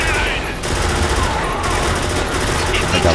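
Gunfire from a weapon in the video game Spec Ops The Line, a loud, chaotic barrage of overlapping shots and combat noise with a voice briefly heard under the din.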